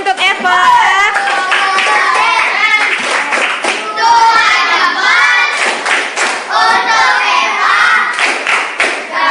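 Rhythmic group clapping in a patterned cheer for a primary school pupil named Eva in Pangandaran, loud and close, mixed with children's voices chanting along.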